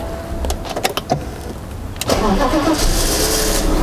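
A BMW E39 sedan with an M5-style body kit starts up: a few clicks and a short whir, then the engine catches and settles into a loud, steady idle close by.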